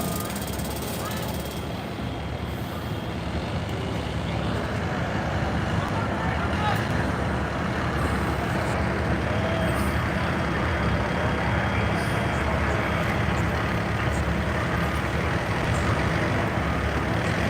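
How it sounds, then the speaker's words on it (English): Fire truck maneuvering into position at a working fire, a continuous loud heavy engine rumble and diesel drone filling the scene steadily throughout, with no clear pauses. "They're trying to position this truck better. They've been maneuvering it, trying to get it positioned better."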